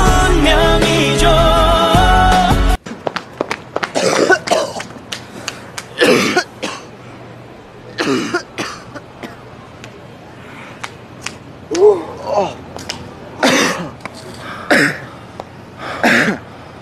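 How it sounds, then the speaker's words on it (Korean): Repeated coughing bursts and throat-clearing sounds from a person with a cold, coming in short irregular fits after a loud stretch of music at the start, fairly close and unaccompanied by speech. "자꾸 기침이"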